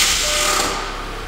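A harsh, loud grinding whine from an Audi A4 B7 transmission under brake torque, with damaged engine mounts, heard alone for a moment before fading slightly.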